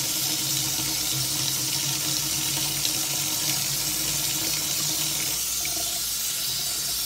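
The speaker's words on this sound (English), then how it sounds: "Before I start, I want to wash my hands, because my hands feel a little slimy" Hands being washed under a running kitchen tap, a steady close hiss of water splashing into a sink for the whole stretch, with no voices.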